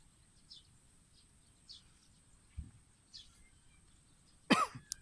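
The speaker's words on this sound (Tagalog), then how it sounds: "Ubo pa ako." One sharp cough from a person fishing outdoors for tilapia in the afternoon rings out near the end of a quiet stretch, with faint bird chirps in the background.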